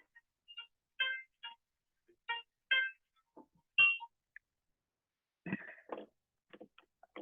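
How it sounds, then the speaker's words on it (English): A mobile phone set to do not disturb rings during a quiet yoga class, with several short bursts of tonal ringtone chirps spread through an otherwise silent room. "If you heard my phone ring, it's in do not disturb and it still rang."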